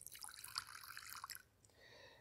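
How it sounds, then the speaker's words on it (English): Water is poured into a basin for hand washing, making soft splashing and dripping sounds that taper off into a quiet trickle, faint and close by. "I would need to take a little bit of water,"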